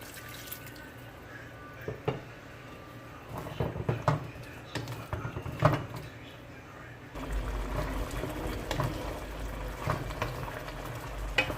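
Water splashes and sizzles into a hot pot of Jamaican-style chickpea curry, followed by steady bubbling and stirring noises close up.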